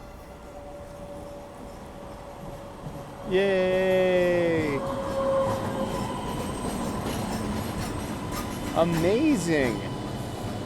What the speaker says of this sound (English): Hey, look, the train's on time.